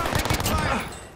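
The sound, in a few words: gunfire in a video game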